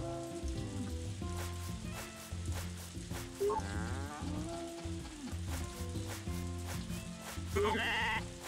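Sheep bleat repeatedly in the farming game Story of Seasons: A Wonderful Life, their wavering cries rising over looping in-game music along with a few other livestock calls, loud and close.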